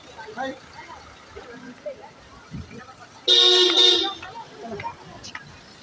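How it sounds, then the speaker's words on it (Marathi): A vehicle on the road to a temple trip sounds one loud, sustained horn blast of under a second, standing out over background voices and street murmur. "तर आता गाडी येते, गाडी येते"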